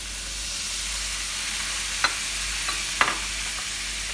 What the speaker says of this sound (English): Okay, I'm just gonna add in my soy sauce now.